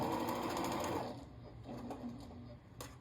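A sewing machine stitches down fabric petals on a pillow, a steady close whirring run that slows and stops, followed by softer intermittent stitching bursts and small clicks.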